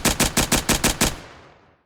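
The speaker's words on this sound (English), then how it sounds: "Brownie points if you know which pistol it is." Pistol fire in the Project Speedkills video game: six loud, close shots fired in a quick even rhythm, followed by a ringing tail that fades away.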